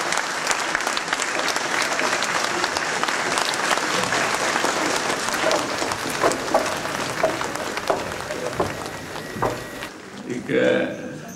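Sustained, full applause from an audience at an ice-skating club's 75th-anniversary stage show, steady and loud for about ten seconds before stopping abruptly, followed by a brief voice.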